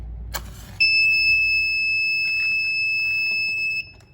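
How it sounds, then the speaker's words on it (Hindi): An Arduino UNO flame-sensor fire alarm buzzer sounds a single steady, shrill electronic tone for about three seconds, clear and close, starting and stopping abruptly, with faint background noise and a brief click just before it. "हमारी एलईडी 3 सेकंड्स के लिए ऑन हुई और हमारा बजर भी 3 सेकंड्स तक साउंड करता रहा"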